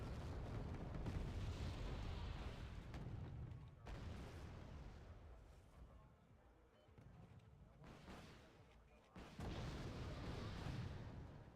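Artillery shells fire in the video game Wargame Red Dragon as a series of dull, muffled booms and rumbling blasts, some rising and some fading over the stretch, partly under talk.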